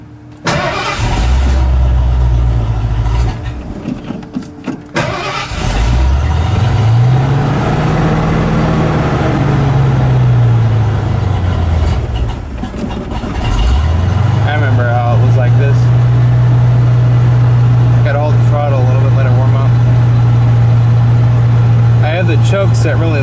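Ford F150 pickup engine with its choke set very low, cranking and catching, surging up and down in pitch, then settling into a loud, steady idle while people talk over it.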